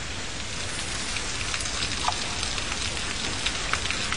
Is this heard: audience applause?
no